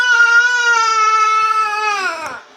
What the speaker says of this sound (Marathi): कसं रडतोय बघा.